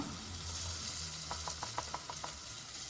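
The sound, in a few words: ground paste added to sizzling fish gravy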